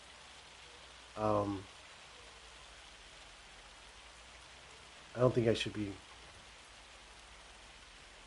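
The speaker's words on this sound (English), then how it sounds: "It's raining now." Steady rain falls in Farming Simulator 25, a soft continuous hiss across the whole stretch, with someone talking briefly twice over it.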